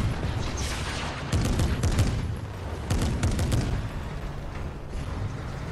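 Rapid gunfire bursts in a first-person shooter video game crackle steadily across the whole stretch, with a couple of louder volleys standing out over a constant dense din of shots and battle noise.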